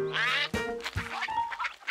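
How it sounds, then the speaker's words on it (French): Ducks quack in an animated cartoon scene on the water: several loud, nasal quacks close together in quick succession, with a busy mix of calls over about two seconds and no talking. "C'était la première fois qu'il se retrouvait sur l'eau, entouré de canards."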